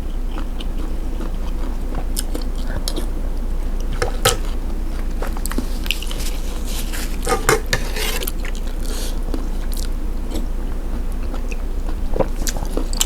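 Close crunchy biting and chewing of fried tofu skin, served with vegetarian kuay jap noodles, repeated irregular crisp bites and chews with quiet background noise and no talking.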